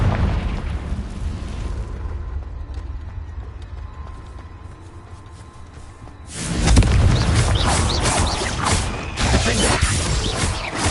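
A Confringo spell blasts in Hogwarts Legacy, a loud burst of fiery explosion erupting suddenly after quieter rumbling and creaking, then roaring debris-filled noise that lingers.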